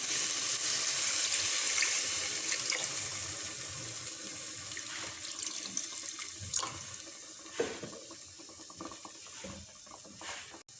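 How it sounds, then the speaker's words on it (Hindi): Water runs and splashes into a pot of cooking chicken curry, loud at first then easing, with a few metallic clinks and knocks toward the end. "हस्बे ज़रूरत पानी शामिल करेंगे।"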